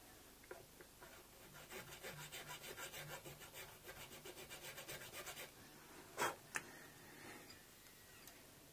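A small file cuts nut slots on an Epiphone SG guitar, quick rhythmic rasping strokes heard close and fairly quiet for several seconds, then a couple of sharp clicks and handling noises.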